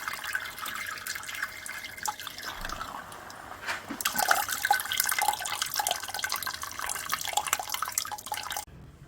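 Sugary wort trickling from a grain bag resting on a rack into a pan, steady faint drips and trickles that grow busier and louder midway, then stop abruptly near the end.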